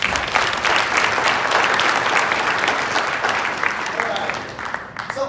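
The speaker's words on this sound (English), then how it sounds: "Can we just give them all another round of applause?" A symposium audience gives a full round of applause, loud dense clapping sustained across the room before tapering off at the end.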